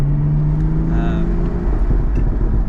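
A car lapping the Lime Rock Park race track, with a steady loud engine drone from inside the cabin as the driver eases off the gas.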